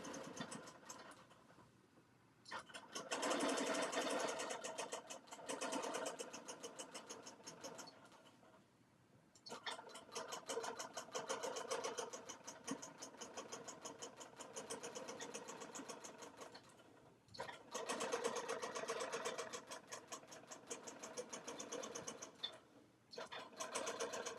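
Sewing machine stitching a quilt, running in long rapid bursts with short pauses between them, close and steady, with no talking over it.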